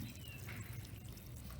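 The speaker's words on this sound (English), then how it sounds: "Put a little bit of water." Water from an old watering can trickles steadily onto a potted plant, a quiet continuous splashing that stays even throughout the short moment.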